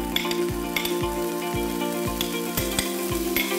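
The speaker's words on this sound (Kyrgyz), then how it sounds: "Сабизди да ошондой эле бисира" Carrots and onion frying in vegetable oil, a continuous close sizzle broken by rhythmic scraping stirs about twice a second.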